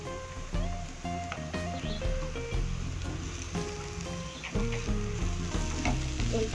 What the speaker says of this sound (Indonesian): Kita tunggu agak tergoreng ataupun agak kuning sedikit, baru kita masukkan bumbunya.